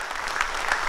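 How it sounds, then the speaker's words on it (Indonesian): Indoor audience at a health program talk show gives a brief burst of steady applause, clapping with no talk over it. "Sekali lagi boleh kita berikan tepuk tangan untuk dua narasumber kita."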